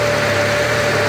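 A VAZ 2-litre car engine idles steadily up close with its radiator fans running, giving a constant loud drone with a low rumble and a sustained tonal whine above it, unbroken from start to finish.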